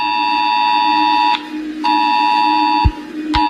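Emergency alert system alarm tone, a loud harsh electronic buzzing tone sounding in three bursts, a long one, then a second long one, then a short final burst, with abrupt cutoffs between them.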